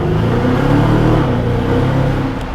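A Mercedes-Benz S500 Coupe engine revs loudly and steadily up close, a deep continuous rumble with rising harmonics that eases slightly at the end, driving through Monaco.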